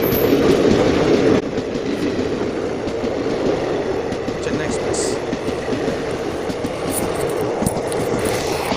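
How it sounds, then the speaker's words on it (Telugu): A passing express train, Chennai Central to Charlapalli, rumbles by on the opposite track from inside a moving train, with continuous loud clattering wheels and rail noise throughout. "విష్ణుపురం నుంచి మనకి ఎదురుగా అయితే ఇంకొక ట్రైన్ అయితే వస్తుంది"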